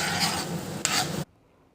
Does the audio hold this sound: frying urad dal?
yes